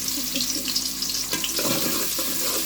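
Chopped paste hits hot oil in a cooking pot with a loud, continuous hiss and crackle, close up and steady with no talking.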